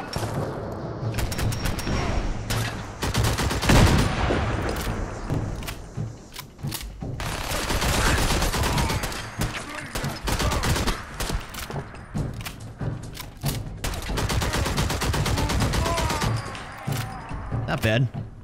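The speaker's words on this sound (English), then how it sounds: "This guy's got a minigun." Enemy minigun fire in Fallout 4, set in a southern swamp, with dense rapid gunfire running in long stretches alongside thuds and booms while someone talks over it.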